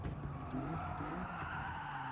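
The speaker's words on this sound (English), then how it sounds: "The car slides in." Tyres skid and slide a race car into a hairpin corner in Gran Turismo 7, a continuous scrubbing screech over the steady engine drone, loud and close throughout.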